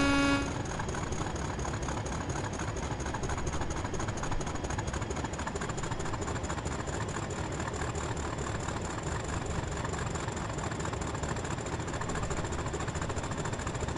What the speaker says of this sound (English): But we like revving this up, MK.